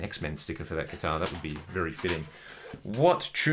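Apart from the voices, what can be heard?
No distinct noise like a dog, phone or traffic.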